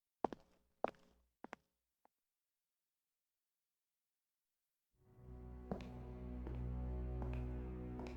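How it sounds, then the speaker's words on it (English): Four sharp, loud footfalls ring out on a hallway floor in Persona 4 Arena Ultimax, spaced roughly half a second apart, then a single faint step and silence before a steady music bed swells in. "making sure that my footsteps are loud on the hallway floor"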